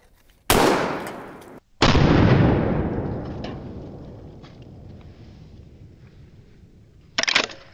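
Gunshots fired at a pineapple target. Two loud, sharp blasts about a second apart each leave a long, fading rumble, then a third shorter crack follows near the end.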